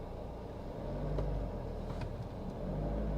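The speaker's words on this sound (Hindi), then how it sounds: "पूरा एक्सेलरेट दे दिया है और अराउंड 1600 RPM के आसपास में इंजन रेव कर रहा है।" A Jeep Meridian engine revs at around 1600 RPM under full throttle, producing a steady low rumble with a rising drone as the SUV accelerates.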